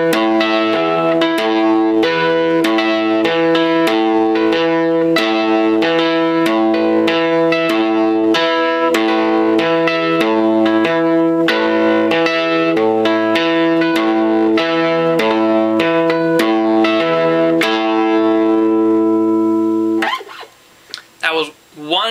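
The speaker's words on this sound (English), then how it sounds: "We're doing a 5-4 polyrhythm, where the 5 voice has a submeter of 2, and the 4 voice has a submeter of 3." Bright electronic tones play a 5-against-4 polyrhythm, the five-voice grouped in twos and the four-voice in threes, pulsing steadily and loudly before ending with a brief burst of noise.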